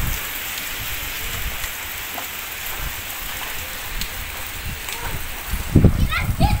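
Steady rain falls throughout during a family road trip to a resort, a dense even hiss with a few louder splashes near the end, while people talk faintly in the background.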